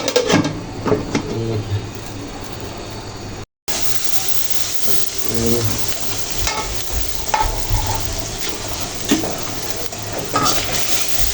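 Shrimp curry with pumpkin frying in a pan, a steady close sizzle with scraping stirring strokes throughout, briefly cut by a short gap of silence.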